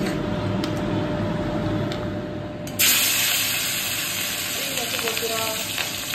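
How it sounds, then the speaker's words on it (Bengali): Pieces of katla fish frying in hot oil, a dense, steady crackling sizzle close by that swells louder and brighter partway through as more fish hits the pan. "তো সব মাছগুলো আজ কাঁচা রাখবো না, ভেজেই রাখবো।"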